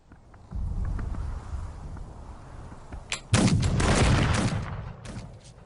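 Musket volley gunfire in a Waterloo war film: a single crack, then a massive simultaneous volley that rumbles loudly for about two seconds before fading, with no talking.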